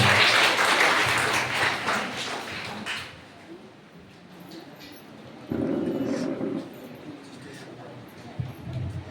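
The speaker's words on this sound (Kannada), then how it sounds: "ನಿಮ್ಮೆಲ್ಲರ ಚಪ್ಪಾಳೆ ಮೂಲಕ ಅವರಿಗೆ ಬರಮಾಡ್ತೇವೆ" An audience clapping to welcome a speaker at a devotional gathering, with dense applause opening loudly and fading out by about four seconds, then murmured voices and a short burst of renewed clapping.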